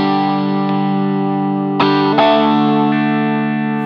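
Fender Stratocaster electric guitar with its single-coil pickups combined, giving a hollow, phased tone, rings out as a sustained chord, with two fresh strums near the end and no talk.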